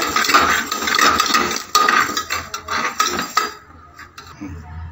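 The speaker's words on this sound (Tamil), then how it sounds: "நான் பாசிப்பருப்பை லைட்டாக வறுத்துக்கிறேன் ரொம்ப வறுக்காதீங்க லைட்டாக வறுத்துங்க" Moong dal being lightly roasted in a pan for Pongal sambar, with a steady scraping and clinking of a metal spoon against the pan for most of the clip, then quieter stirring toward the end.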